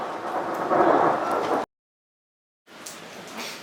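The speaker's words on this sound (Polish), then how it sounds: "Takie burze to tylko na Sycylii. A, jest już nad nami." A thunderstorm over Sicily, heard as a heavy, steady roar of thunder and rain that cuts out abruptly and then resumes more faintly.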